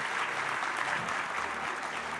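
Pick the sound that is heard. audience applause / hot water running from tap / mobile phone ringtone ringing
audience applause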